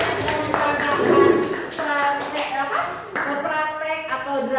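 Students in a classroom applauding their classmates after a drama performance about bullying, a loud burst of clapping that continues steadily under a teacher's voice and children's chatter.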